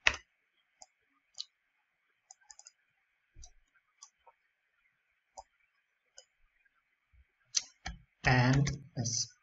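Sparse, sharp computer mouse clicks spaced irregularly while working in Unreal Engine Blueprints, faint and close, followed by a short burst of speech at the end.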